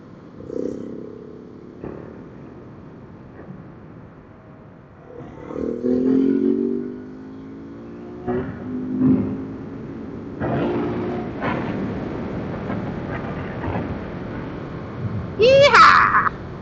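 A KTM 690 Enduro motorcycle ridden in bursts, its single-cylinder engine rising and falling with revs and shifts, heard from the rider's position with wind noise and a brief shout near the end.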